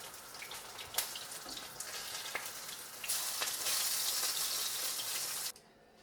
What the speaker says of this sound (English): this batter mix I really recommend when you're doing shallow frying of fish